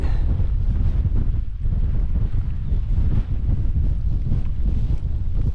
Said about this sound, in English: Yep, bit windy.